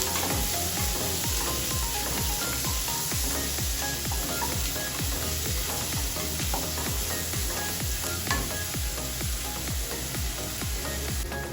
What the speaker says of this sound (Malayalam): നല്ലപോലെ ഒന്ന് സോട്ട് ചെയ്തെടുക്കാം.